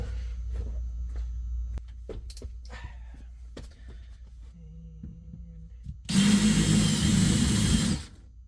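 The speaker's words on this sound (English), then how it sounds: "So I gotta drill these rivets out to get the carpet out." A power drill whirs loudly for about two seconds, drilling out rivets holding carpet in an old U-Haul box van, after scattered clicks, taps and scraping from handling tools, with a softer low hum in between.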